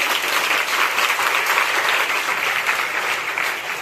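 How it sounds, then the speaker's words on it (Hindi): Loud, dense applause from an audience at a college NCC wing anti-drug awareness event, sustained steady clapping throughout with no talk over it. "जोरदार तालियां।"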